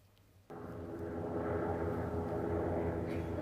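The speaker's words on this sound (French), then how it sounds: "Ça, c'est un hélicoptère commercial, oui." A steady, broad engine roar rises suddenly and holds, a commercial helicopter droning overhead at moderate distance.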